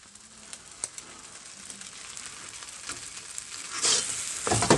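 Fried rice stir-fried in a wok over a gas flame: a steady, close, hissing sizzle, with louder scraping and tossing bursts toward the end.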